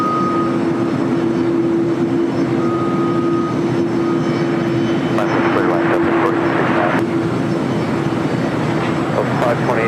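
Aircraft at LAX around runway 25 produce a continuous, loud engine roar with a steady tonal hum, unbroken for the whole stretch.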